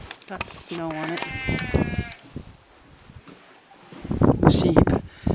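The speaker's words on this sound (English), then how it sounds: "Sheep." Sheep bleat several times on a snowy farm, with wavering, harmonic cries near the start and more bleating and rustle toward the end, while people talk nearby.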